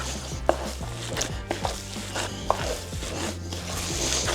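Venison sausage meat being worked together with spices by hand, giving soft, irregular squelching and slapping with a few sharper knocks against the bowl, close up and with no talk.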